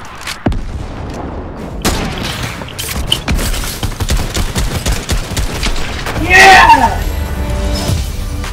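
Rocket launch and a burst of explosions in Fortnite, a dense run of blasts and gunfire-like bangs through the clip with a louder roaring swell near the end, heard alongside excited player chatter.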